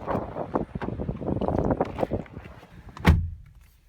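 Wind blowing outdoors beside a 2015 Lexus ES 350, gusty buffeting rumble across the microphone that rises and falls, ending with a dull thud like a car door closing, no speech.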